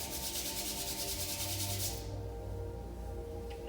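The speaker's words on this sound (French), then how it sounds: "Frotte mes mains." Hands rubbing together briskly during a morning qigong routine, a close, steady swishing friction that softens after about two seconds.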